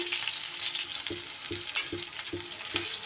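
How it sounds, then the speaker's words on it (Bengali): Onion frying in hot oil in a pan for mung dal, a close, continuous crackling sizzle punctuated by a regular series of soft stirring knocks against the pan. "এবার সুন্দর করে পেঁয়াজটাকে আমি একটু তেলের মধ্যে ভাজা ভাজা করে নেব"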